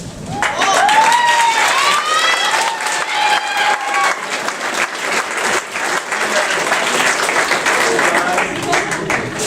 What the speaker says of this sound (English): Round of applause for the students